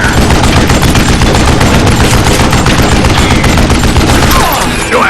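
Rapid sustained gunfire in the Western shooter Call of Juarez Gunslinger, a loud dense burst of shots that keeps going for several seconds before easing off at the end.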